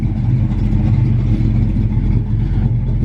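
A 1972 Dodge Dart Swinger with a 360 V8 and a big cam runs close by, its deep, loping rumble holding steady with slight rhythmic unevenness and no voices.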